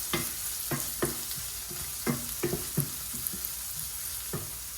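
Chopped green chillies and garlic frying in a hot pan, a steady sizzle broken by several sharp spatula scrapes and clacks at irregular intervals, close and clear with no talking.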